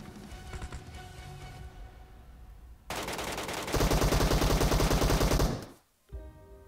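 Automatic gunfire in the Metro Royale video game: rapid, loud machine-gun bursts with a sustained stretch of fast fire, then a sudden stop and brief quiet, with game music and effects underneath and no talking.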